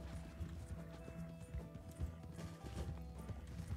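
A horse's hooves clop steadily in Red Dead Redemption 2, a quick galloping rhythm carried under game music and ambient sound, fairly close and continuous throughout.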